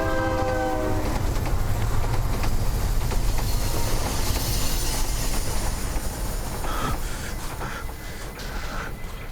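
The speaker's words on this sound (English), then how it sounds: "The train! The train!" A train rolls by on its rails with a loud, steady rumble and clatter, its horn sounding near the start, then the roar slowly eases off; no one speaks.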